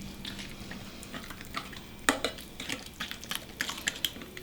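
Lemon juice, salt and mayonnaise are mixed gently into a salad sauce, making soft scraping and tapping of a utensil against a bowl with a sharp clink midway, close and quiet, with no voices.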